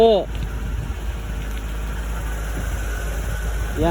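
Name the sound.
vehicle engine idling at a farm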